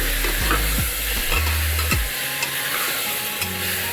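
Vegetables with a piece of ginger sauté lightly in butter in a pan for tomato soup, a steady close sizzle broken by several scraping stirs of a utensil, with no voices.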